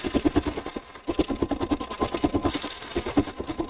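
An embroidery machine stitches a tack-down line in a rapid, rhythmic pattern of needle strikes, rising and falling in short pulsing bursts at close range.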